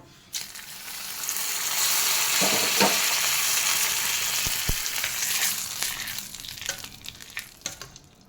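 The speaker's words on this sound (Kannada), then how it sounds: "ಈಗ ಇದಕ್ಕೊಂದು ಒಗ್ಗರಣೆ ಕೊಡುವ" Spices sizzle and crackle loudly in hot oil for a tempering, a dense continuous frying hiss with a few sharp pops and stirring clinks.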